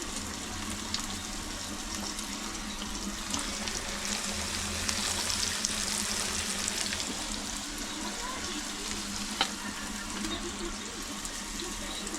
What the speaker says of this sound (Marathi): पाच ते दहा मिनटात मस्त ती आपली मच्छी फ्राय होईल